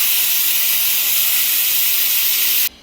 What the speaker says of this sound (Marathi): आता कुकरच्या आपल्याला दोन शिट्ट्या काढून घ्यायच्या आहे इथे बघा आता दोन शिट्ट्या झालेल्या आहेत